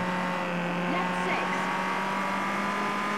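A Citroen C2 rally car engine in the WRC video game on PS3, on a Bulgaria stage, holds a steady, loud high-pitched drone throughout, with slight pitch shifts as the revs change.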